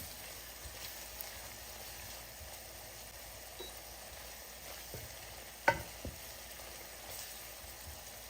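Spices frying in oil in a pot for a Durban prawn curry, a faint, steady sizzle with a few soft crackles and one small sharp pop.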